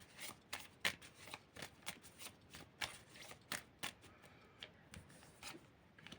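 A deck of tarot cards being shuffled, with a quick run of crisp riffling slaps and soft flicks in an uneven rhythm, close and fairly quiet, with no talking.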